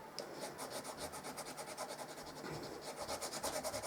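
Quick rhythmic rubbing over a handmade paper gift craft, a soft scratchy back-and-forth stroke repeating several times per second, close and fairly faint with no talking.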